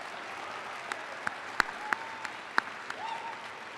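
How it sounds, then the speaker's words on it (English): Applause at a Grand View University commencement in the Iowa Events Center, a broad wash of clapping with a few sharper close claps standing out, moderately loud under the hall's reverberation. "Let's give them a quick round of applause,"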